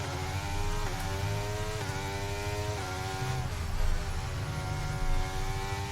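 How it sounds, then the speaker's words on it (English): Formula 1 car engines in the F1 23 racing game at the Bahrain Grand Prix, a steady droning whine with rising and falling gear-shift pitches, continuous and fairly loud with no talk. "These engines sound so bad."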